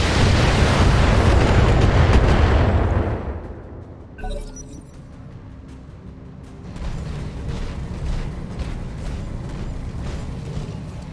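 A barrage of missile explosions in the BattleTech video game, a loud rumbling roar of blasts that cuts off, followed by a sharp crack and a lower, continuing mechanical rumble.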